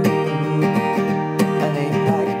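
Acoustic guitar strummed in a steady rhythm, playing an advanced chord arrangement of a Jungle Book song, close and full with sharp strum accents through the 2.4 seconds, no voice.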